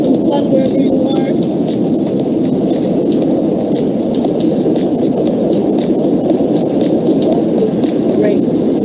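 Steady rain with low rumbling like thunder, a constant broad wash that stays at one loud level throughout with no pauses.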